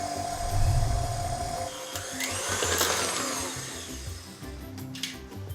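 A food mixer on first speed churns fresh pumpkin purée into cake batter, a steady motor whir with low rumbling from the bowl that rises and eases, close by and without talk.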